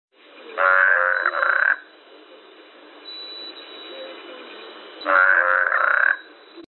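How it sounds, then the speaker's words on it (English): A toad gives two loud, buzzy croaking trills, each lasting about a second, separated by a quiet gap with faint background noise. "Toad."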